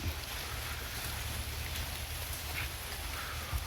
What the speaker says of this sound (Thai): บรรยากาศฝนตกฝนตกเลยแหละครับตอนนี้